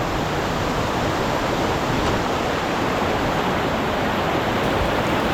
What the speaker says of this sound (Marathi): पावसामुळे नदीचा फोर्स खूप वाढला होता.